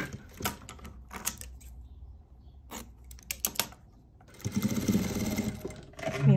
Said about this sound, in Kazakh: мен қарама-қарсы құрақ тігіп отырмын қазір.